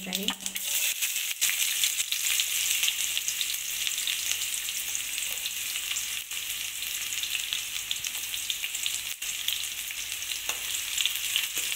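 Finely chopped onion frying in a pan for a Maharashtrian dal kanda, a steady dense sizzle running close and loud throughout with occasional stirring.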